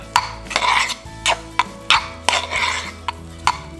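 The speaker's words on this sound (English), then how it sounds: "I'm stirring up the butter a little bit more." Butter being stirred into mashed potatoes gives a run of close, wet scraping strokes, each a short rasp of spoon against pot, in an irregular rhythm with brief pauses.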